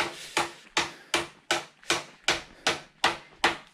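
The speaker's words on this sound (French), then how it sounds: "elle est en train de clouer." Nails being hammered into a wooden hut on a farm: nine sharp, evenly spaced strikes land about every 0.4 seconds, each a crisp knock with a short decay, close and alone without talk.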